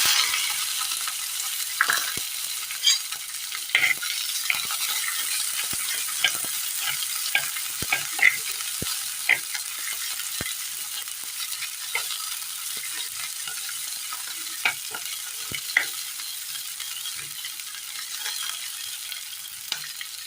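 Cumin seeds sizzling and frying in hot oil in a pan, a steady close crackle with scattered pops and occasional stirring scrapes, no voices.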